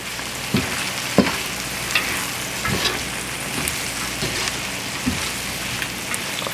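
Chopped collard greens and other ingredients cook slowly in a pan with a steady, close hiss and sizzle, broken by occasional stirring scrapes and soft taps, with no talk.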